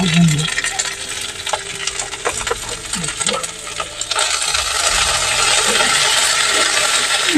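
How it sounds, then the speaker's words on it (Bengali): Ginger paste fries with five-spice seeds in a pan, giving scraping stirs and clinks at first, then a louder, continuous sizzle that fills the second half. "আদা বাটাটা একটুখানি হালকা ভাজা হোক"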